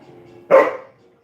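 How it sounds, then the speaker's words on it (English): A single sharp dog bark rings out close and loud in a kitchen, then quickly fades to quiet. "Dogs."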